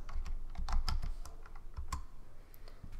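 Quick, uneven key taps on a computer keyboard as a variable name is typed for a Scratch 3.0 program, close and fairly quiet with no talk.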